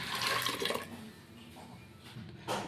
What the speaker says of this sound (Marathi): इथे 2 ग्लास पाणी टाकते मी गरम।